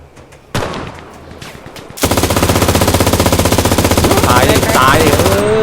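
Gunfire in the World War battle royale game Cuisine Royale: a loud automatic weapon firing a rapid, continuous burst of shots after a couple of single blasts, close and dominant, with a faint voice early on.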